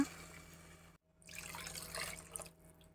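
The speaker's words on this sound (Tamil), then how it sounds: "தேவைப்படுற அளவுக்கு கொஞ்சம் தண்ணி விட்டுக்கோங்க" Water poured into a pot of neem flower rasam, a steady splashing trickle that starts after a brief pause and runs for about two seconds, close and moderately loud, with no talking.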